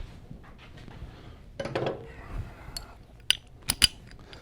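Metal wrench and Allen tool clicking and clanking on the fuel tank mount of a Harley-Davidson Sportster motorcycle: a scraping rustle, then a few sharp metallic ticks and clinks close by, with no talk.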